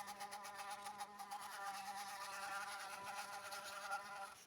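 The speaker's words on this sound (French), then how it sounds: "c'est une grosse bébête à rayures" A large striped insect, likely a wasp or bee, buzzes steadily and close indoors, its whining drone sustained throughout without pause.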